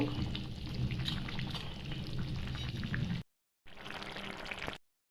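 Fried tilapia slides into a pot of boiling water, giving a loud bubbling, sizzling splash that runs steadily, cuts out briefly, then returns before stopping.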